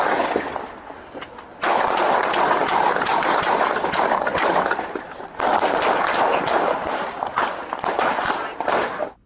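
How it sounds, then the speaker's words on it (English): Rapid bursts of gunfire ring out in long volleys in a parking lot in Midtown Manhattan, sharp reports echoing off hard surfaces nearby, pausing briefly between strings of shots. "the gunfire continues to echo through the parking lot"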